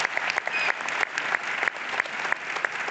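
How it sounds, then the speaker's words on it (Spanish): A live studio audience claps warmly and steadily for a few seconds, dense applause filling the room at moderate loudness, with no voices over it. "Es curioso cómo aplaudimos cada vez que aparece una población"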